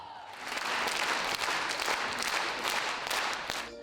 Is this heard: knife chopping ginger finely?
no